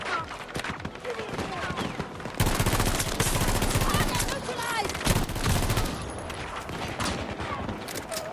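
Rapid automatic AK-24 fire in a video game, dense bursts of shots that intensify midway and carry on steadily, loud and close amid layered game effects.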